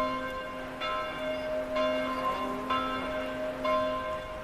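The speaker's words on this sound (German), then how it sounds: "Heute rufen Kirchenglocken die Gemeinde zu den Gottesdiensten." Church bells ringing out for a service, several rich tolling strikes spaced about a second apart with long ringing overtones, steady and fairly loud against a soft background wash.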